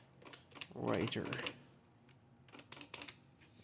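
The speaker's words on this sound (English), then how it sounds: "you can see what you're writing before it prints out" A Brother EP44 hybrid typewriter prints in short rapid bursts of clicking and whirring near the microphone. A voice briefly talks between the bursts.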